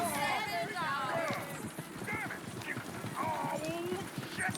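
Horses gallop with rapid clip-clop hoofbeats and an occasional whinny in the Western video game Red Dead Redemption, loud and steady throughout, with game voices talking over the hooves.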